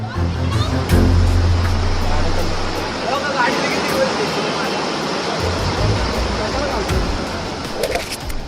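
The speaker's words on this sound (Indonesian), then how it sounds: "luapan sungai di India ini bukan pertama kalinya membanjiri rumah warga" Overflowing river floodwater in India rushes loudly in a dense, continuous roar, with a low vehicle-like rumble early on and a voice speaking faintly beneath the torrent.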